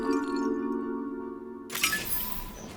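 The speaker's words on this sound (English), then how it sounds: "it's the noise of collectibles from the Tomb Raider game" Collectible pickup chime in a Tomb Raider-style video game: a sustained tonal ringing shimmer followed by a bright, sparkling burst, alone and moderately loud.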